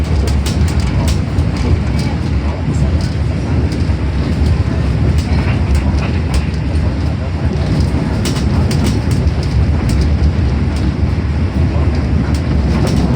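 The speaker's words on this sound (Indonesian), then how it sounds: "saat ini kereta api Jayabaya diberangkatkan kembali ya" The Jayabaya passenger train in Indonesia rumbles along the rails up close, wheels clicking rhythmically over joints with a steady loud roar.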